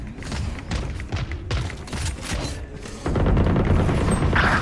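Rapid missile launches and blasts from the Valorant battlefield rumble in dense, overlapping booms and thuds, the barrage swelling louder in its final second and a half, with no voices over it.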